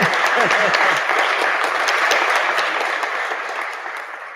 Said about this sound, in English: A round of applause for Anna